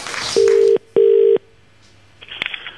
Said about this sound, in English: We're going to make a quick phone call.